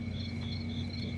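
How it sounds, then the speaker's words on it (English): Cricket chirping played from a cell phone, a steady continuous trill at moderate volume with no speech over it. "we played the cricket sound"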